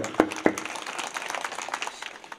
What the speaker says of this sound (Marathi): जरा इमानदारीनं टाळी वाजवा.